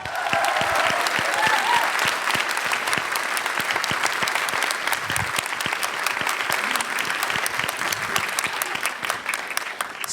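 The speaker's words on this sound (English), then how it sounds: "to vote for Ryan Brenizer's picture, give me a round of applause" A crowd at a photography event's shootout applauds to vote for Ryan Brenizer's picture, dense sustained clapping that stays loud and steady for about ten seconds with no talk.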